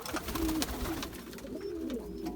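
Dönek pigeons coo in a loft, several low rolling coos in sequence close by over a soft background hum.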